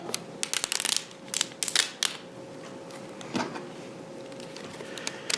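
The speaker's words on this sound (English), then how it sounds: "Let's crack her open, shall we? Find the perforations for the top." Stokers Fine Cut tobacco pouch torn open along its perforations, giving a run of close, crisp ripping and crinkling bursts, then quieter rustles and a few later tears.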